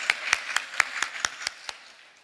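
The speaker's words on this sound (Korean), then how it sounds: "이러면 크게 박수 한번 해주시죠." A church congregation at a Sunday service claps about eight distinct times in a quick, evenly spaced burst, bright and fairly close, then fades out at the end.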